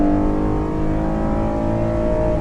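Ford F-150 pickup running on CNG in tow haul mode, pulling hard at full throttle with a steady, droning engine roar heard from inside the cab, loud and continuous with no talk.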